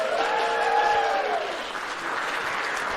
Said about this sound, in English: By a round of applause, by making some noise